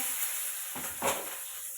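Cumin seeds and green chillies drop into hot oil for a shevgyachya pale bhaji, giving two soft sizzling bursts over a steady background hiss.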